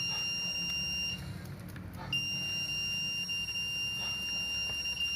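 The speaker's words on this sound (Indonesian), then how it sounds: "Buzzer berbunyi sebagai alarm peringatan" A dam turbine speed-monitoring system's warning buzzer sounds as a steady, shrill electronic tone, cutting out for about a second before resuming, over a low background hum.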